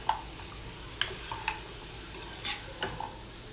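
Masala is stirred into chicken curry for a baabaaji chicken curry, with soft intermittent spatula scrapes and light clinks over a faint, quiet sizzle.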